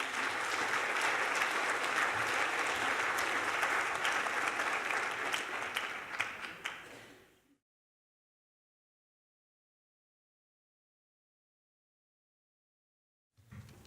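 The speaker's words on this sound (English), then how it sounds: "If you give them a big round of applause." Loud, dense applause from a summit audience welcoming the panelists and moderator, sustained for about seven seconds before cutting to silence, with a brief burst returning at the very end.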